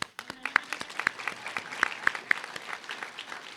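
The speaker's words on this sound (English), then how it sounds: "When Alfreda claps, we clap." A community event audience in Lansing claps, with scattered individual hand claps, some sharp and close, spreading into moderate applause that continues steadily.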